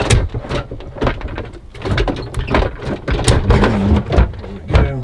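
Pull-out steps under the rear bed of a Eura Mobil Terrestra 660 motorhome slide back in with a run of close, loud knocks, clunks and sliding scrapes that continue steadily for several seconds.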